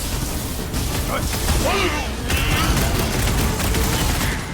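Sniper gunfire and other shots ring out in the Guardians of the Galaxy video game, a dense battle din with repeated sharp cracks under game music and characters' speech.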